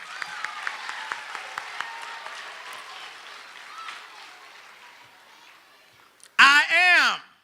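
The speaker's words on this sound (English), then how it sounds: "Give yourself a hand." At a Dallas ISD African American Read In, an audience claps for itself, scattered sharp claps fading into softer applause that dies away, then a loud voice cuts in at the end.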